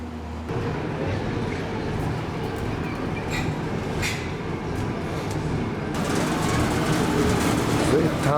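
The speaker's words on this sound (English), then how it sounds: "they have to turn this train at this Matsuyama City Station" The Botchan train, an old tram, being turned by hand at Matsuyama City Station, a low steady rumble and mechanical drone with a louder grinding section near the end, voices and crowd murmur over it.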